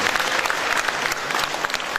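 Applause from a graduation ceremony audience in Kupang, a steady dense patter of many hands clapping for the whole stretch, loud and close, with no talk over it.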